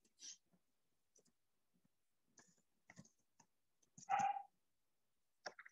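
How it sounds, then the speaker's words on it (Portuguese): Faint, sparse clicks of typing on a computer keyboard, a few irregular keystrokes spread over several seconds with one louder tap near the end, in an otherwise quiet room. "tô digitando aí"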